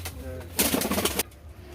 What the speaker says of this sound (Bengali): এইদিকে দেখো এর একটা পায়রা রয়েছে কত সুন্দর দাঁড়িয়ে রয়েছে